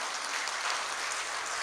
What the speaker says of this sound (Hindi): एक बार तालियां बजा के नज़्म के लिए इजाज़त दें